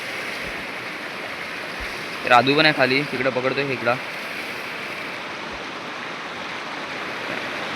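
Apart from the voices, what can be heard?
fast-flowing river water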